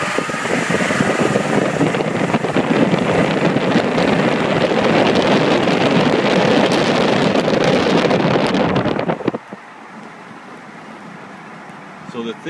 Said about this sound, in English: Now I'm going to put it in gear and do a full throttle